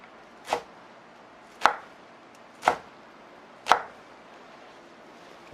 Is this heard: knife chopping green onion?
yes